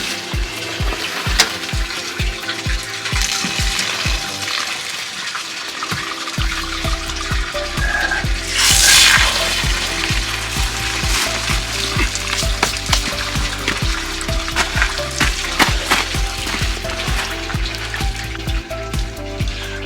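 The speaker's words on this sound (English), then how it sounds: "I'm going to empty my low point drains now" Water drains from the low point drains of an RV being winterized, a steady splashing, sizzling patter that runs continuously, with a low rhythmic pulsing early on and a brief louder gush midway.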